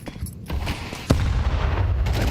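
HE grenade explosion in a Counter-Strike match, a single sharp blast about midway through, followed by a rumbling tail under steady background game noise.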